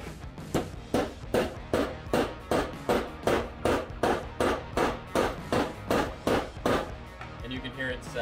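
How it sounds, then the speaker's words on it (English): A metal wedge is hammered into the top of an axe handle with a camp carver, about seventeen loud evenly spaced strikes at a steady rhythm, close up, with the pitch of the blows shifting near the end. "We're gonna actually use the camp carver to beat this in."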